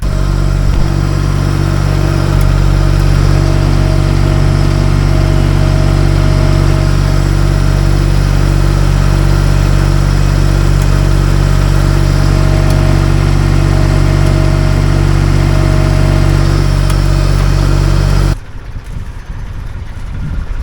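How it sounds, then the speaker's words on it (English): A high-ratio gearbox-driven tread roller in an apple orchard rolls up tread, a loud steady mechanical engine drone held for about eighteen seconds before cutting off abruptly, heard alone without talking. "it's working better than the other tread roller, because this one has way more power due to the high ratio that's in the gearbox below there"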